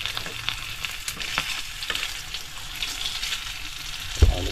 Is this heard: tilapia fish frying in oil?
yes